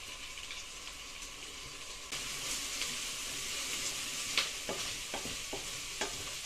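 Celery, parsnip and carrot hitting hot butter with onions in a pan, a soft sizzle that jumps louder partway through, with scattered stirring scrapes and clicks of a utensil.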